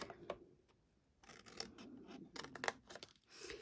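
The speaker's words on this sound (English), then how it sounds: "So I'm just going to actually cut right into this part here and cut to here." Scissors snip into card for a 3D box, a series of short, crisp cuts and rustles arriving in irregular bursts, close and faint.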